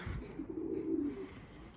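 A pigeon in a loft gives one low, rolling coo lasting about a second, faint and close, over quiet room noise.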